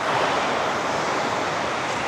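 Water rushing with a strong flow where people wade and swim across, heard as a steady, loud, broadband roar with no break and no voices.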